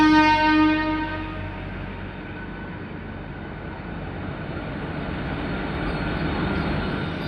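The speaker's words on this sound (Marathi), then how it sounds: "सिग्नल दिला याला, त्याला निघाली गाडी पटकन." A Mumbai AC local train pulls away from a Chhatrapati Shivaji Maharaj Terminus platform, a short horn-like tone giving way to a steady rolling rumble of wheels and motors that slowly swells.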